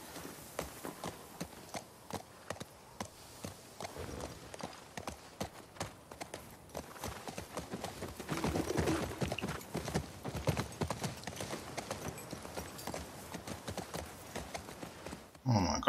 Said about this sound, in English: Horses all over the place.